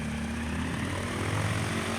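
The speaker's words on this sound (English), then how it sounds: "Oh, I need to turn the engine off," A propeller aircraft engine hums at a steady idle inside Microsoft Flight Simulator, a constant droning tone with no voices over it.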